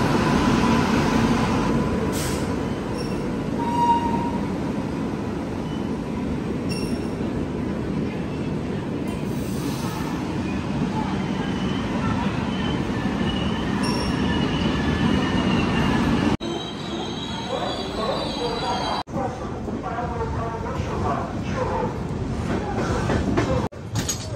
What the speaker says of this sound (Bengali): আমার ট্রেন শেষ পর্যন্ত 4 নম্বরে এন্ট্রি নিল